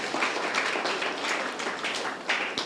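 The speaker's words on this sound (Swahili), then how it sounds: "Makofi kwa Yesu" A church congregation claps and applauds in praise during a sermon on prayer, a short burst of dense, fairly even clapping that fills the room, with no clear speech over it.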